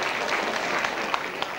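An audience at a gathering on a town square claps continuously for a longtime company president, a dense, steady patter of many hands that holds at an even level throughout.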